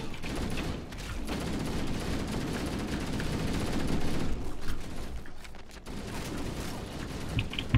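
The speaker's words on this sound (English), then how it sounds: "He's shooting me with a magnum!" Magnum gunfire in Halo: Combat Evolved on legendary difficulty, a sustained noisy stretch of shots and combat mixed with mechanical clatter, fairly loud and continuous throughout.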